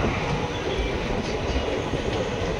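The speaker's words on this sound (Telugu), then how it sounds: "సో మన ట్రైన్ అయితే ఏలూరు స్టేషన్ నుండి అయితే స్టార్ట్ అయిపోయింది" Ratnachal Express rolling out of Eluru station, a steady loud rumble of wheels on rail with a faint rhythmic clatter, heard continuously from inside the moving train.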